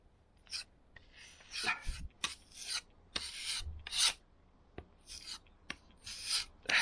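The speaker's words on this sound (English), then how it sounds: "I've mixed up some filler there. Let's try and fill those holes with it." A multi-purpose decorator's tool used as a compound spreader scrapes and smears mixed filler into holes, in a series of short rasping strokes with brief pauses between them, close and fairly quiet.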